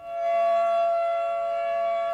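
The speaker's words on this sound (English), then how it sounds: "why is this siren blaring and how did it get here?" A civil defense siren in Vancouver wails a loud, steady tone at noon, holding one sustained pitch for a couple of seconds with no voices.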